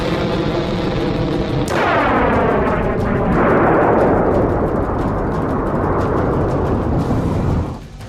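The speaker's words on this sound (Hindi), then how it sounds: "ईरान ने जोरदार बारूदी धमाका करके दोस्त और दुश्मन सभी को अपनी ताकत का सबूत दे दिया।" Powerful explosive blasts from an Iranian missile test, a loud sustained roar with a sharp onset partway through and a rolling rumble that holds steady before fading at the end.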